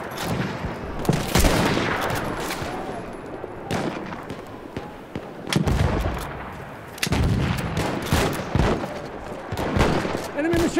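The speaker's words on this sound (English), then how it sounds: "Enemy machine gun over there!" Enemy machine gun fire in the Battlefield V multiplayer game comes in repeated bursts and booms over a noisy battle, loud and dense, with some voices mixed underneath.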